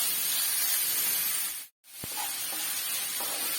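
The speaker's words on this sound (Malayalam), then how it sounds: "ഇഞ്ചിയൊക്കെ വഴന്ന് വരുന്നുണ്ട്," Ginger sautés in a pan with a steady, close hiss and sizzle that cuts out for a moment, then resumes with a light stirring tap, no talk.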